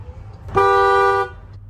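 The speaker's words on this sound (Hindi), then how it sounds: "डुअल हॉर्न है" The dual horn of a 2022 MG ZS EV Exclusive sounds one steady, loud honk lasting about two-thirds of a second, close by, with no talking.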